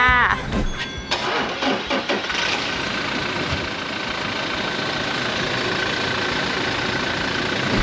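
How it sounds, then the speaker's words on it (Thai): A used 2017 Toyota Fortuner TRD with the 2.8 diesel engine cranks briefly, catches and settles into a steady, loud, rumbling idle, heard close up with someone talking near the start. "จะไปสตาร์ทเครื่องรถคันนี้ให้ดูกันค่ะ"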